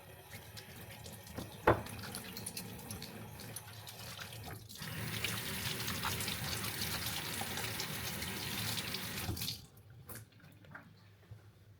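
Tap water runs into a kitchen sink during handwashing, a steady close rushing stream that swells after a sharp knock, then cuts off near the end, leaving quiet room sound.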